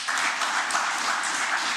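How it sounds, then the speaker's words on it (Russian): Applause for a Tatarstan basketball team celebrating its VTB United League championship win, a dense, even wash of many hands clapping that holds steady for a couple of seconds without talk. "Первый раз аплодисменты вам."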